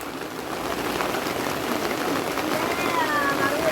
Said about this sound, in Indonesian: mulai hujan ya lumayan cukup deras sekali.